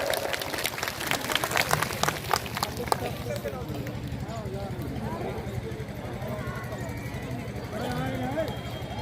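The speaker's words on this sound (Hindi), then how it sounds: "जोरदार ताली स्वागत" An audience claps at a political rally, a burst of applause in the first few seconds that fades into a murmuring crowd and a voice speaking over a low rumble.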